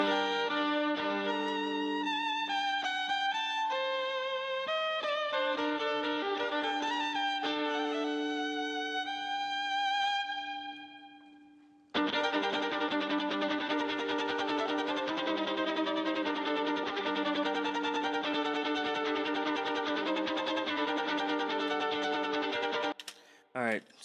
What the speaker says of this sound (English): I used a sample of a guy playing a violin very crazily.